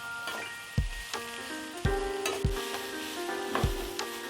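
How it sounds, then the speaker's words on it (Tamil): Carrot and bell pepper sauté in a pan for fried rice, giving a soft, steady sizzle broken by several sharp scrapes and knocks of a spoon stirring against the pan. "இது ஒரு 2 நிமிஷத்துக்கு வதங்கட்டும்."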